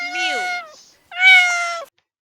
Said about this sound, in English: The cat mews.